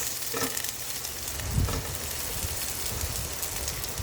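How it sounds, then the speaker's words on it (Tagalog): Garlic and onion sauté in a pan with a continuous soft sizzle and crackle, a few brief stirring clatters breaking the moderate, even frying. "Sa isang kawali, nagsangkutsa lang po ako ng bawang."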